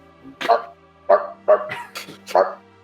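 A dog barking in a tabletop role-play guard scene, four or five short, close barks spaced unevenly, sounding like a person imitating the dog.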